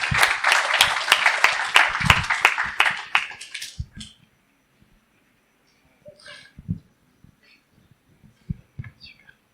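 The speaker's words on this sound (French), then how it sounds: "on peut les applaudir bien fort" A congregation at a Christmas church service applauds loudly for about four seconds with crisp, dense claps, then it fades to near silence broken by a few scattered knocks and rustles.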